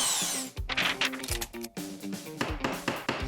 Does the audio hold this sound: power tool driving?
yes